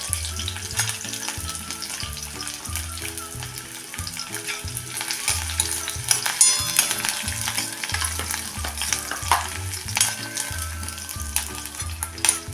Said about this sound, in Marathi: त्यात टाकूया हा चिरलेला कांदा कांदा आपण चांगला ब्राऊन रंग येईपर्यंत परतून घ्यायचा आहे